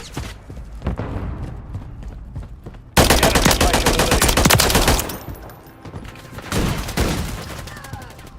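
Bursts of rapid automatic gunfire in a combat video game, loud and dense with sharp repeated cracks, surging to a sustained barrage midway and then tapering into scattered shots.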